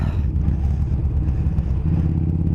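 A loud, rumbling motorcycle exhaust idling and revving steadily up close, a deep throaty drone that fills the whole clip.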